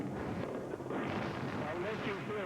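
Bombing explosions in Baghdad in 2003 come through as a continuous dense, distant rumble and roar in a war zone, steady and heavy throughout the short stretch with no speech.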